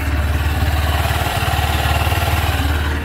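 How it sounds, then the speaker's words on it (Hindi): A Honda CB200X motorcycle engine idles close by, a steady, even low throb with rapid regular pulses and light mechanical clatter, no talking over it. "बहुत ही स्मूथ है इसका इंजन"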